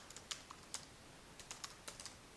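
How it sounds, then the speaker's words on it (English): Code being typed on a computer keyboard in the evening: very faint, scattered key clicks, a few quick taps in small bursts over a steady low hiss. "The sound of typing code yeah, in the evening."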